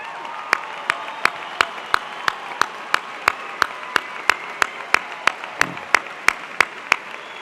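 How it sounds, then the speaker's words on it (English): Parents rise at a Ronald Reagan High School class of 2008 graduation as the audience applauds them: a broad wash of clapping with sharp, evenly spaced claps beating steadily through it, moderately loud and without speech. "Students, please give your parents a round of applause."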